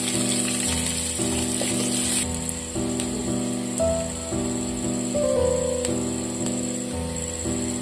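Chopped onion and garlic fry in a kadai for chilli potato, a continuous, fairly loud sizzle with a steady low hum running underneath.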